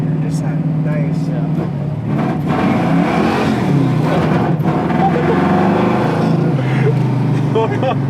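A big-block V8 in a 1967 Camaro idles with a steady low rumble, loud and close throughout, still cold and sputtering slightly, with faint talk over it.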